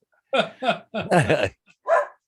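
Several dogs bark nearby in a quick series of five or six loud, yappy barks with short gaps between them.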